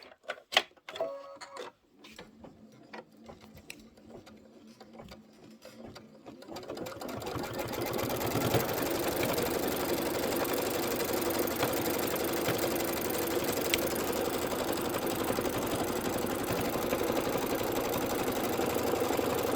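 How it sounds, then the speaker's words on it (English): A Kimberbell embroidery machine stitches the perimeter of a Halloween broom pillow, starting after a few sparse clicks and then running as a steady, loud, continuous whir for most of the stretch. "it's going to stitch out the perimeter"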